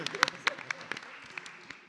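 A small audience at a live talk event in Dayton gives a short, sparse round of applause, a handful of separate claps fading quickly and heard fairly faint.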